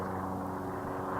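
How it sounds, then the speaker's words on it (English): A Cessna 172 training plane taking off gives a steady, loud propeller-engine drone with a smooth, even tone and no voices over it. "So Cessna 172, probably another school plane"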